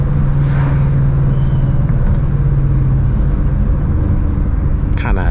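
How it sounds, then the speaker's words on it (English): Ford Mustang engine in a night drive with windows down, a loud steady rumble with a falling tone as it downshifts, heavy road and wind noise throughout. "A little downshift here."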